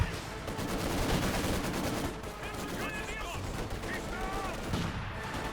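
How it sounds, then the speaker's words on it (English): A Maxim machine gun fires in a Company of Heroes 2 battle, with bursts of rapid gunfire layered over a dense, noisy din of combat. The clip is moderately loud and continuous, with some sharper whistling effects in the middle. "Maxim firing away there"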